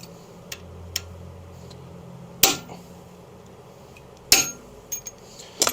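A steel hammer beats a part back into a 1972 Harley-Davidson XLCH motorcycle transmission, striking the outer bearing cage through a socket: two sharp, loud metallic blows a couple of seconds apart amid lighter taps and clinks, with no voice.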